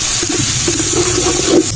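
A short, continuous rush of water pouring into a cooking pot of rice, steady and close, lasting under two seconds with no voices.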